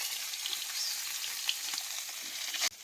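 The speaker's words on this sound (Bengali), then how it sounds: "আমি এবার মাছ ভাজি নিচ্ছি দেখছো" Fish fries in a pan with garlic, sizzling steadily and loudly from start to finish as hot oil crackles, with a sharp cut near the end.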